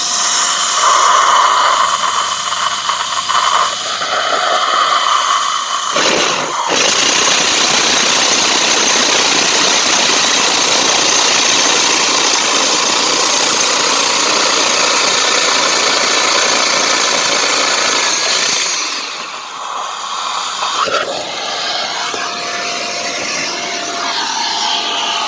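A Hilti core drill bores with water flowing, a steady loud motor drone running continuously for most of the stretch, then easing slightly toward the end.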